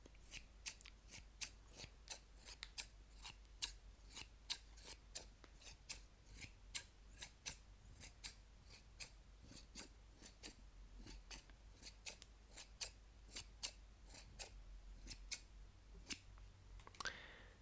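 Scissors snip repeatedly at close range, sharp crisp cuts following in a fairly regular rhythm at a quiet overall level.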